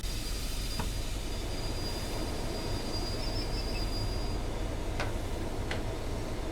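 A Class 31 diesel locomotive in the Train Sim World game pulling to a stop: a steady low rumble with a faint high whine and a few brief squeals and clicks, with no talking.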